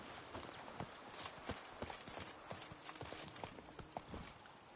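Hooves of Roach, a horse in The Witcher 3, clip-clop in a steady trotting rhythm, close and moderately loud, with no other sounds over them.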